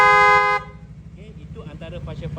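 A car fitted with Future Eyes X80 Pro spotlights gives one loud, sustained horn honk over an idling engine, then someone speaks close by.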